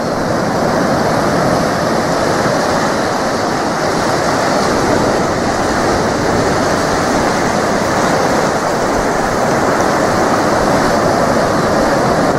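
Ocean waves wash in at Penguin Island, a loud, continuous roar of surf with wind rumbling against the microphone throughout.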